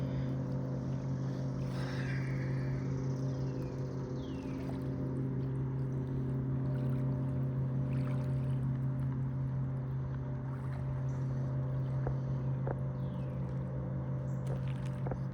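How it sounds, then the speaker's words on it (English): Motorboats pulling out of a lake marina, a steady low engine drone held throughout at moderate distance, with faint wind and no talking. "And you can hear the boats coming out of the marina."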